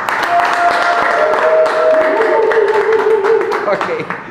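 An audience claps and cheers loudly and steadily to welcome a tour guide at a Halloween event, with a broad wash of applause and voices shouting over it throughout.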